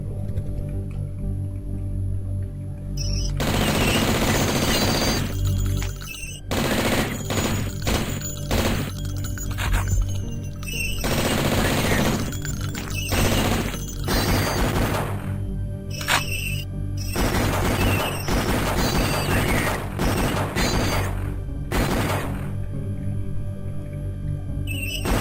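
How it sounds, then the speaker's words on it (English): Dual-wielded akimbo guns fire in the video game Blood, loud and close in long rapid bursts broken by brief pauses as the ammo is burned through. "look how fast you burn through that ammo with guns akimbo"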